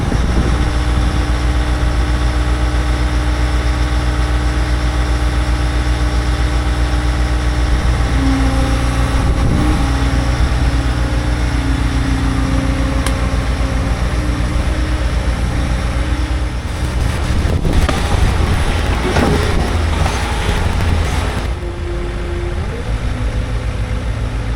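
A Bobcat T66 skid steer loader's diesel engine runs steadily at idle, a loud continuous low rumble throughout with some clanking and rattling in the latter part and no talking.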